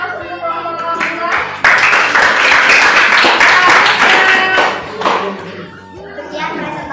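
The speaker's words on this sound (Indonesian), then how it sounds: "Kalau tidak ada, kita berikan aplaus untuk kelompok 2." Classroom group of students applauding after a presentation: a sustained burst of many hands clapping, mixed with chatter and children's voices, swelling then fading.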